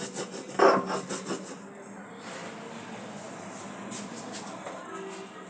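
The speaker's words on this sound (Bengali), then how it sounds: "আগে সর্ষে আর লবণটা বেটে নেব।" Mustard seeds and salt are ground on a stone slab, a rough rubbing and rasping with a few rhythmic strokes at the start that settle into a steady scraping grind.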